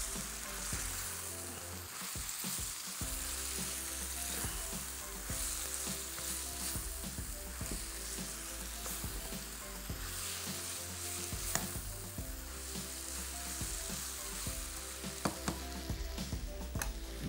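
Food roasting in a pan with a constant bright sizzle and scraping, stirring strokes at irregular intervals, heard up close with no talking.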